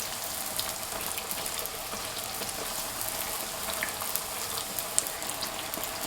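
Youtiao dough sticks deep-fry in hot oil, giving a continuous dense crackling hiss like steady rain, close and even throughout with no voices.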